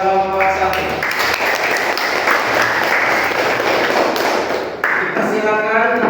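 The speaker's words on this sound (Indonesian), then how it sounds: "Berikan aplaus kepada kelompok 1." Classroom audience applause for a presenting group at a teacher performance assessment at IAIN Sultan Amai Gorontalo, a dense burst of clapping lasting several seconds, with a voice speaking just before and after.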